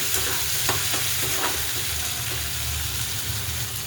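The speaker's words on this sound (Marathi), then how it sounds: "इथं आपण टमॅटो आणि कोथिंबीर टाकून घेऊया तेलामध्ये. एकजीव करूया." Tomato and coriander hit hot oil in a pan with a steady, close, continuous sizzle and faint stirring scrapes, no talk over it.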